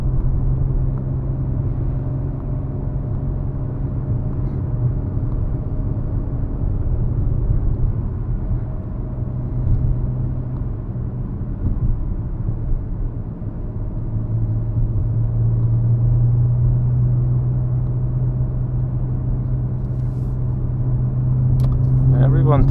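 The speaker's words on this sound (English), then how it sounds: "that's why we have some tiny traffic over here." Cars on the Pacific Coast Highway on a Sunday morning, their continuous rumbling engine and tire noise drifting through steadily, with a rising hum of a nearer vehicle toward the end.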